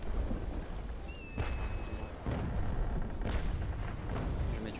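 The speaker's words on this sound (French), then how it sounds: "Ça c'est les canons arrière qui font bien mal." Sailing-ship cannons firing in the naval combat game Naval Action, several heavy booming shots spaced a second or so apart over a constant roar of sea and wind.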